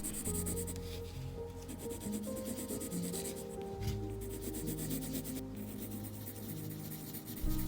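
A light peach colored pencil shades across paper, a continuous soft scratchy rubbing that goes on in steady back-and-forth strokes, close and quiet with no talking.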